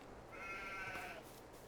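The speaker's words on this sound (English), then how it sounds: "The sheep. The sheep." A single sheep bleats in Farming Simulator 22, a short wavering call heard faintly over a quiet ambient background.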